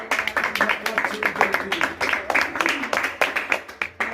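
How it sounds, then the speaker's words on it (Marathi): Audience applause for a kirtan performer, a steady run of rapid, crisp hand claps at close range that keeps going without pause. "एकदा जोरदार टाळ्या वाजून आपल्या हबप कीर्तनकार धनश्री तरडे हिचे एकदा जोरदार टाळ्या वाजून"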